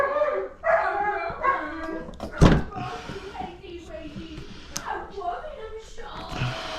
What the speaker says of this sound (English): Y'all hear the dog.